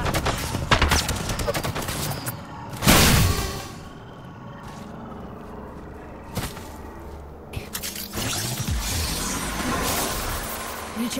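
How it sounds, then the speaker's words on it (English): Video game gunfire aimed at the player, a burst of loud shots near the start that fades into scattered, rattling fire and a low ongoing din. "Being shot at."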